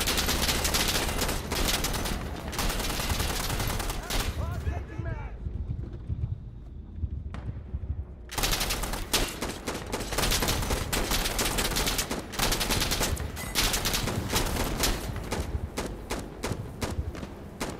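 Mounted vehicle gun in Insurgency Sandstorm fires long, loud rapid bursts that crackle across most of the stretch, pausing briefly in the middle before resuming, with players talking over the gunfire.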